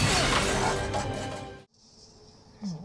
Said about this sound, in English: Now the window's broken.